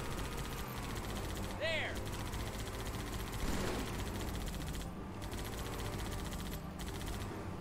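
Gunfire from the Halo 2 co-op campaign. Dense bursts of shots and weapon noise run continuously at moderate level under players talking, with a few brief gaps.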